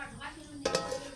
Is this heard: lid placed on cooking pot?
yes